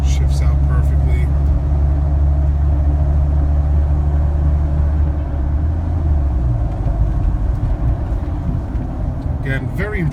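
A 1999 Ford F-250 4x4 Lariat with a V10 engine drives along and shifts gears, a steady low engine and road rumble that drops in pitch midway, with someone talking over it.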